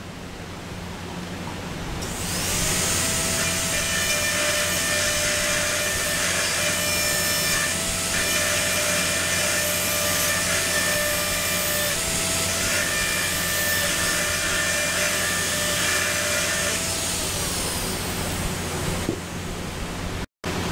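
High-pitched whine of a dental drill fitted with an inverted cone burr smoothing the axial wall of a Class V tooth cavity, running steadily and close for most of the span before stopping.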